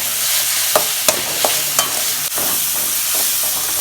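Onion and tomato sautéing in a pan for anchovy dry fish thokku, a steady broad sizzle with a few sharp scraping stirs, close and fairly loud, no voices.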